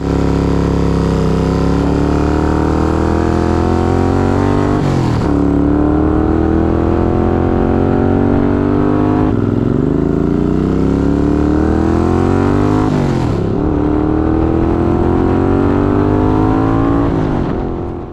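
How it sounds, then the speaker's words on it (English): A Honda chopper motorcycle engine runs loud and close throughout, revving up and down in repeated surges with a few gear-change dips, no talking over it. "experience an actual ride on the bike"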